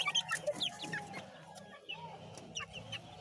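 Backyard chickens cluck and chirp in short, close bursts, small squawks scattered over a quiet, low background.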